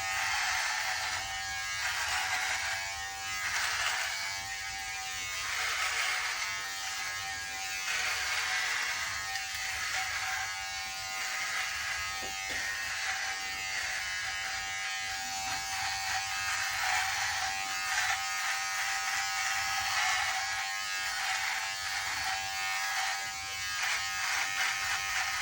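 Electric shaver buzzing steadily and close as it cuts through a long, thick beard, a continuous loud hum with slight wavering as it moves across the face, no talking.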